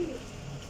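A brief, soft coo from champion Jheth Wasakh pigeons of Teddy type, among them females, heard close and low against a quiet background.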